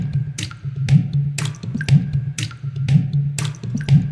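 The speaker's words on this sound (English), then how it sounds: "Just like water splashes, which is just lovely" Water splash percussion hits from a sample library fall in a steady rhythm, roughly two per second, each a bright splashy drip over a sustained low tone, close and clear with no voices.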